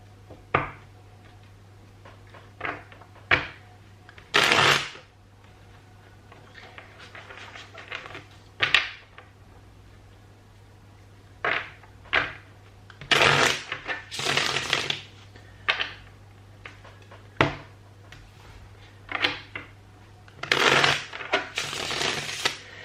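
A deck of tarot cards is shuffled by hand at close range, with a series of sharp riffling bursts and softer card slaps and slides between them, alone with no talking.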